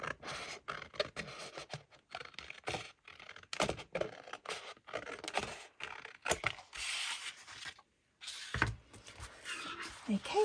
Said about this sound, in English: so I'm just going to go for the scissors.